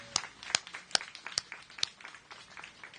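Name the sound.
audience applause at NYC DOT event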